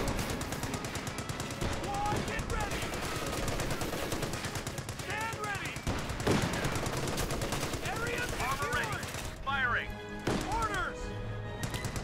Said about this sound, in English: We're gonna have to focus on this MG.